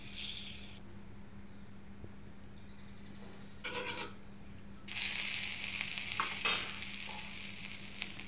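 Sugar drops into hot oil in a pan, and short sizzles give way to a louder, sustained frying hiss over a low steady hum.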